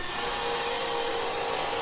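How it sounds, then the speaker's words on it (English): Continuous rasping friction of a burled maple platter being sanded by hand, close and steady with no talking. "I'll finish sanding at somewhere around 800 grit"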